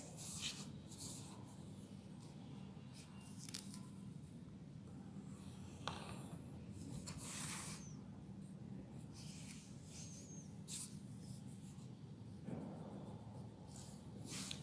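A pencil drawing a straight line on paper during a geometry construction: faint, soft scratchy strokes in short bursts, quiet and close, with a low room hum underneath.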